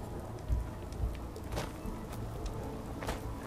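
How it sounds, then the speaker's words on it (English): Steady rain in Fallout 4's Nuka World, a soft broadband hiss of falling drops with a couple of dull low thumps near the start, alone with no talk. "So now it's raining."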